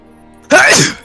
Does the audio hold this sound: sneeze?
yes